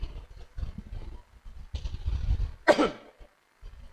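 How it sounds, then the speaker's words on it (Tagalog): A single sharp cough bursts out near the end, following quiet low rumbling and shuffling. "Medyo inuubo lang ako."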